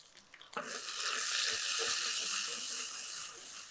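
Tomatoes and onions sizzle and fry steadily in a pan after a brief clatter, a bright hissing crackle that swells and stays loud.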